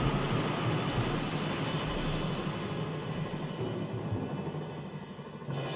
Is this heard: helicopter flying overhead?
yes